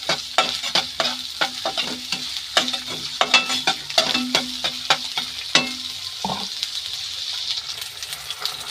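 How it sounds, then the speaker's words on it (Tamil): Finely chopped onion sautés for Schezwan chicken, a busy sizzle punctuated by rapid, irregular clicks and scrapes of a spatula against the pan, close and fairly loud. "நல்லா சாட்டே பண்ணிக்கோங்க."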